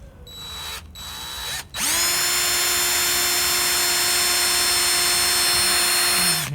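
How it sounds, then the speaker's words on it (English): A power drill bores into the center of a wooden dowel for a model wooden float plane, two short bursts followed by a steady loud whine that holds until the end, with no talking. "What we're going to do is to drill a hole right in the very center."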